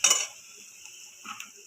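Potatoes go into a pan of hot oil for a hotel-style curry, giving a sharp clatter and scrape of a utensil on the pan, followed by a soft sizzle and a few quieter stirring clinks, close by.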